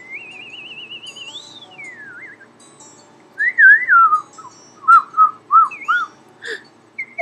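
A person whistles in imitation of a bird, first a long warbling trill, then a series of loud, close, separate chirping phrases, with no talking.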